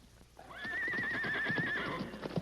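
A horse whinnies loudly in a long, wavering neigh with hooves clip-clopping beneath it, a sound effect in an old Western radio drama.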